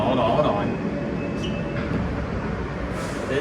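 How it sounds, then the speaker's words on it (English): A New York subway R train running on the Q line from 14th Street Union Square rumbles in a steady, loud, continuous drone with faint high whines above it. "This is the next train."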